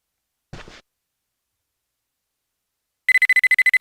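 A telephone rings in the 1998 PlayStation adventure game Mizzurna Falls, a fast electronic trill of repeated bright pulses starting after a short pause, loud and close, preceded by a brief muffled sound.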